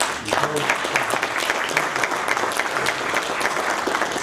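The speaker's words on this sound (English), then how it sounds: "So let's clap up." Audience applause at an inaugural lecture, a dense, sustained wash of many hands clapping close by for the whole stretch, with faint voices mixed in underneath.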